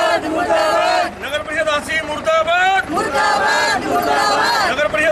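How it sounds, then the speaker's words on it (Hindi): Women protesters chant slogans against the municipal council in a loud rhythmic group cry, voices rising and falling in repeated bursts close by. "नगर परिषद के खिलाफ नारे लगा रहे हैं"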